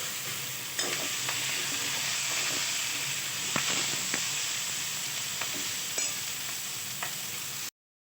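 Ridge gourd frying in a hot pan gives a steady, loud hiss and sizzle with occasional sharp stirring clicks, running unbroken until it cuts off abruptly near the end.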